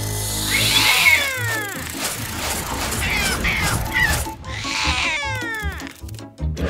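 A startled cat lets out several loud, drawn-out meows and yowls, falling in pitch, close and clear with a brief pause between calls.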